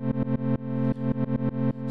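Synthesizer tone with one LFO modulating another LFO's rate, giving a steady buzzy note chopped into rapid rhythmic pulses whose timing shifts, loud and alone.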